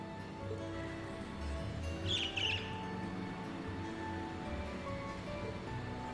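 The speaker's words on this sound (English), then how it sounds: "A bird?" A bird chirping in the video game The Legend of Heroes: Trails of Cold Steel, a brief cluster of high twittering calls over a steady ambient music bed.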